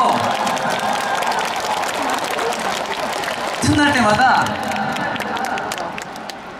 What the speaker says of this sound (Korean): 박수 진짜 박수 많이 치시고